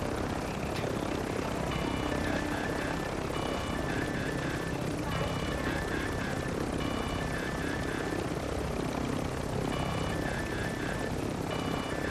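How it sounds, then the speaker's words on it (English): A helicopter's steady rotor drone and engine whine in the video game Warzone 2 fill the scene continuously, loud and close overhead, with faint voices talking beneath it. "There's a helicopter up there."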